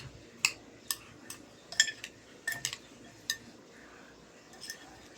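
Metal utensils clink against a bowl while kinilaw na tanigi, raw fish in vinegar, is mixed, giving a handful of sharp, separate taps and scrapes at close range over a quiet background.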